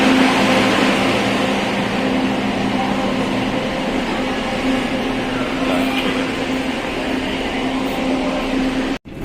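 Train passing at a station in Quiapo, a loud, steady rumble and hiss of wheels and carriages that holds throughout before cutting off abruptly near the end.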